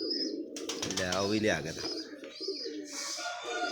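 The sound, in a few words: pigeons cooing and flapping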